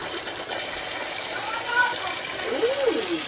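Tap water running steadily from a kitchen faucet that won't shut off, a continuous hiss and gush under a voice talking nearby.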